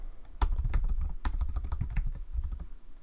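Rapid typing on a computer keyboard while working in AutoCAD, a dense, close run of key clicks with a few sharper, louder strokes, no voices.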